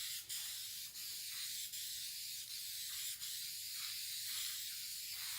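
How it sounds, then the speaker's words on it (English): Spray can of carpet dye hisses steadily at close range onto a carpet, a continuous airy spray with brief dips between bursts and no voices. "Now I am actually spraying, you'll notice, quite a bit closer to the surface than you would with a normal can of spray paint"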